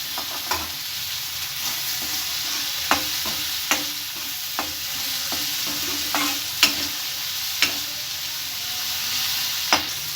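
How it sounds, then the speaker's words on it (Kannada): Vegetables fry in oil with turmeric powder for an egg and vegetable soup, giving a constant loud sizzle with regular sharp taps and scrapes of a stirring spoon throughout, and no one speaking. "ಒಂದು 1/4 ಟೀ ಸ್ಪೂನ್ ಅರಿಶಿನದ ಪುಡಿ ಹಾಕೊಂಡು ಕ್ಲೀನಾಗಿ ಫ್ರೈ ಮಾಡ್ಕೊತಾ ಇದ್ದೀನಿ"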